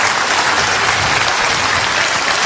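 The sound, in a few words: audience applause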